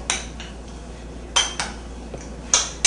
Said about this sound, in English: just take a spoon and kind of mash it around a little bit